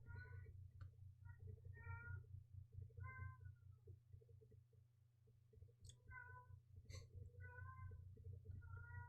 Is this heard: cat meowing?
yes